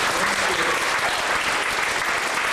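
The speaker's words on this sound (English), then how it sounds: "Let's give these students a warm round of applause for walking up." Steady, dense applause from an audience clapping for students, filling the whole stretch at an even, loud level with no talking over it.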